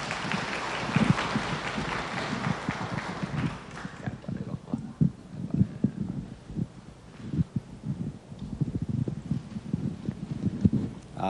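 A crowd claps for a speaker at a Buddhist dharma lecture in Shengang, Changhua. The applause is loud and dense at first, then thins after a few seconds into scattered, uneven claps that carry on to the end.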